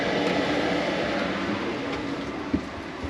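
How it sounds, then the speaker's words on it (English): An RV furnace runs inside a 2012 Trailsport R-Vision 19E travel trailer, giving a steady broadband blowing roar with a faint low hum and one small knock near the end. "So with that furnace running, it's actually just right over here."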